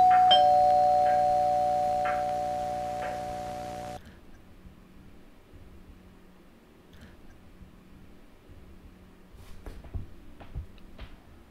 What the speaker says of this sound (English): Just then, someone rings the doorbell